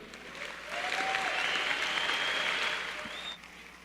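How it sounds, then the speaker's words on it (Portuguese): Applause from an audience after a closing speech at a Brazilian political talk, a broad wash of clapping that swells in, holds for a few seconds and then fades. "uma salva de palmas ao nosso projeto"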